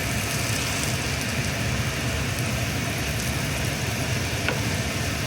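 Eggs frying in a pan at a home kitchen stove give a steady, even sizzle with a soft crackle that carries on without pause and sounds close up. Nobody speaks.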